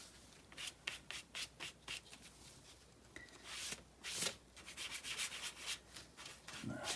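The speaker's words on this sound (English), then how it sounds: "we'll go ahead and burnish our edges" Leather edges being burnished on a beginner leather bookmark, a run of brisk rhythmic rubbing strokes in short bursts, close and fairly quiet, with no talking.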